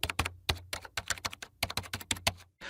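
A captcha code is entered on a computer keyboard in a quick, uneven burst of crisp, close keystrokes, about twenty sharp clicks with short pauses, heard alone without talk.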